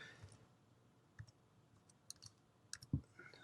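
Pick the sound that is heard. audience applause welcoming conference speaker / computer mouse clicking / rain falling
computer mouse clicking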